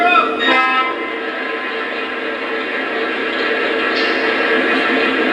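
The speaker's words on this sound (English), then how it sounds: "The fuel loading sound will play as long as you're holding down R." Lionel Legacy SD40-2 model locomotive playing its fuel loading effect, a steady loud mechanical hiss and whir held continuously after a brief tonal burst at the start, with no talk.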